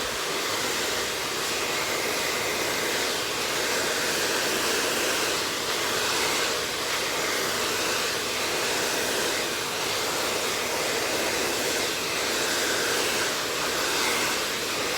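A blow dryer runs continuously on medium heat, a close, steady, breathy whoosh that holds at an even level throughout with no voices.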